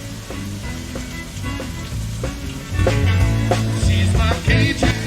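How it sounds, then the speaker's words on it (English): Pork browns and sizzles in a pot for Cajun jambalaya. A steady frying hiss is broken by scraping stirs that recur every second or so, and it grows louder and denser about halfway through, with no talking. "we are still in the browning process"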